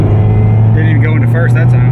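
A Toyota MR2 with an automatic transmission fault runs through a 1-2 gear shift, its engine a steady, loud, close low drone with a rough rumble and no clear break in pitch.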